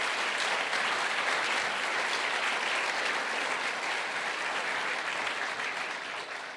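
A large audience at a panel event at the Hayden Center applauds veterans of the armed forces, a sustained, even roar of clapping that tapers slightly at the end.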